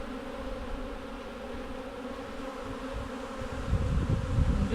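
Honey bees swarming around an open hive where they have built extra comb, a dense steady buzzing drone close by that swells slightly louder toward the end, with no voices.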